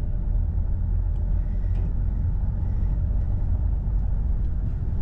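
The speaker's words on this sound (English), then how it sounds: "Bloody big truck." A big truck rumbles past on the road near a rubbish drop-off site, a steady loud low-frequency roar with engine drone that holds for several seconds without speech.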